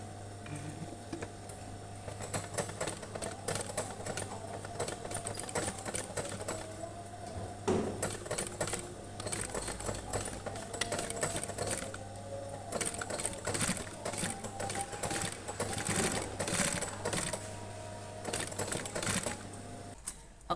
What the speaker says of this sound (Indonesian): Sekarang kita akan menjahitnya dulu